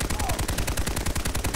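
A sniper rifle fires in the Army of Two shooter game, a dense, steady string of loud shots that sounds almost like a continuous burst, with game noise underneath.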